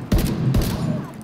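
Shotgun blasts in the video game The Division 2, two loud booming shots about half a second apart with a rumbling tail, alone without talk.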